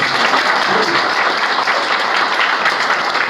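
Audience applause at a business seminar, a dense steady wash of many hands clapping at once, loud and close, holding evenly throughout with no voices over it.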